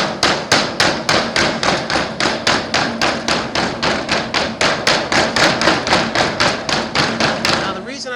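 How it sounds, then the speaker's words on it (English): Rapid, regular mallet blows hemming the edge of a standing seam metal roof, about three per second, loud and close, continuing without pause. "I use my mallet on the edge of the metal"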